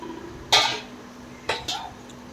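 Metal utensil scraping and clanking while mixing tomato rice in a metal pot, three short bursts with quiet pauses between.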